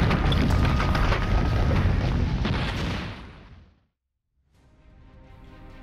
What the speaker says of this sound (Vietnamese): Và đạn pháo lại tiếp tục rơi xuống, cách chúng tôi khoảng 300 mét về phía bắc.